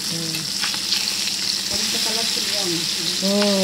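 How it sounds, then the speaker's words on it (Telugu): Pieces of fish frying in a pan for a Nellore-style fish curry, giving a steady close sizzle with soft scraping as they are turned, light background music running underneath. "చేపల ఫ్రై తిరగవేస్తారు"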